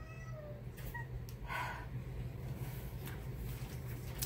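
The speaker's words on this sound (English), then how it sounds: "Cats are gonna fight, of course." Cats yowl and caterwaul as they fight, a strained meowing cry rising over a steady low background hum, with a few quieter mewing calls before and scattered faint clicks afterward.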